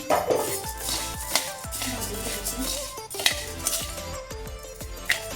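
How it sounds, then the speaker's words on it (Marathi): Sorghum (jowar) grains roasting in a pan, with rapid scattered ticks and pops mixed with metallic clinks and rattling of the pan, close and busy throughout. "आता ज्वारीला लाह्या फुटायला लागल्या"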